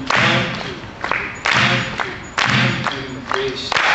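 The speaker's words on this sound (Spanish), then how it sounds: "Que le aplaudan en 5 octavos" Group of people clapping together in a 5/8 rhythm during a drum clinic, a run of sharp, fairly loud claps in uneven groups while a voice counts along.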